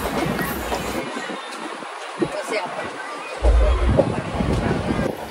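A passenger train on the Ratnagiri to Vasai Road summer special runs with a steady rumble and rail clatter, and a brief heavier surge midway, while people chat nearby inside the carriage.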